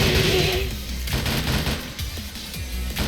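In a Tekken 7 story mode fight, rapid bursts of gunfire crackle loudly and close, fusillade after fusillade with short gaps. The shots come through without speech over them.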